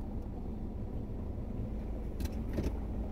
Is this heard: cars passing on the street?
yes